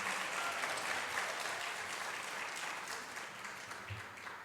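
Crowd at a college pageant claps for contestants after the casual wear round, sustained dense applause throughout, fairly even and slightly distant, without speech.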